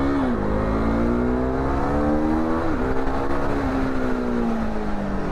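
A KTM RC390 motorcycle on off-road tyres at raised pressure holds a continuous, fairly loud engine tone that dips and climbs slightly with throttle changes as it rides along.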